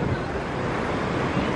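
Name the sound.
big ocean waves on the beach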